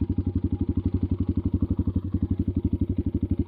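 A Kayo T2 enduro motorcycle engine idles with a steady, rapid, even thumping pulse, close and loud, with no other sounds over it.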